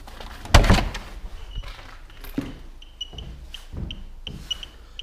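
A house's front door thumps and rattles open up close, followed by quieter clicks and shuffling handling noises.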